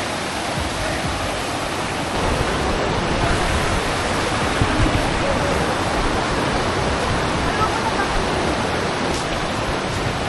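A shallow river flows on the way to Gabaldon Falls in Dingalan: a loud, steady broadband rush of water that goes on without a break, with no clear voices over it.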